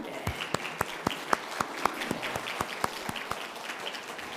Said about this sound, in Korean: 다시 한번 우리 박수할까요?